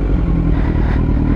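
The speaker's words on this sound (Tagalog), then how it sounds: "Ito motor niya." A Kawasaki Z900 motorcycle engine runs steadily at a night owners' assembly, a loud, continuous rumbling idle close by with a faint clattery edge and no talk over it.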